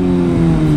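Motorbike engine revving loudly and close by on a city street in Lucknow, a steady throaty drone held briefly.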